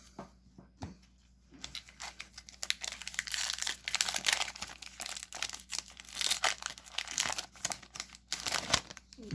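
Foil wrappers of Kryptik trading card game packs are torn open and crinkled by hand, with close, busy crackling and rustling that swells and continues with brief pauses.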